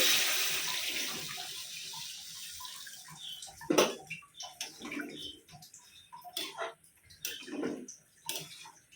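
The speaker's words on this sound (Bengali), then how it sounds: "জল দিয়ে দিচ্ছি" Water runs and splashes into a cooking pot where potatoes and paneer are cooking, heard as a faint steady pour with intermittent louder splashes and drips near the end, no voices.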